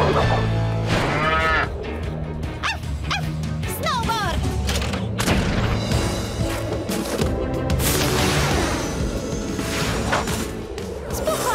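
Cows moo several times in a PAW Patrol cartoon amid a busy, loud mix of music, honking and other animal sounds, with brief Bulgarian voices.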